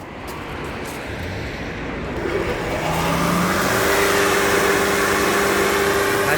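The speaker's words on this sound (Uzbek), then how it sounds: "Hozir bittasini ulab ko'rib, shunchaki motorini tekshirib ko'ramiz." An agricultural feed crusher's electric motor is switched on for a test run, spinning up from a low rumble into a loud, steady whining drone with rising tones that settle into a constant hum.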